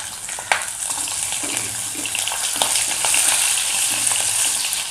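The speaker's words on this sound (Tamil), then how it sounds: "அடுப்பை சன்னம் பண்ணிக்கிட்டு கொஞ்சம் வணக்கங்க" Four garlic cloves and about twenty shallots fry on a low flame, giving a soft continuous sizzle with occasional light stirring clicks, close and even.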